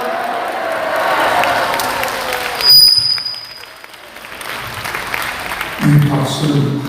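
A crowd applauds steadily at a moderate distance at a church service in a prayer retreat, the clapping fading out midway and then returning briefly.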